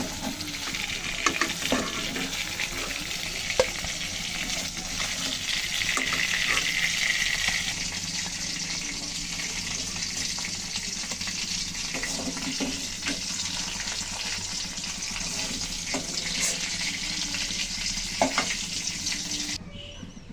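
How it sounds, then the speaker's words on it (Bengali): Pieces of rohu fish fry in hot oil for a Bengali-style curry, a steady close sizzle and crackle that runs throughout with occasional utensil scrapes and clinks. "তো মাছটা যে ভালো করে ভেজে তুলে নিলাম।"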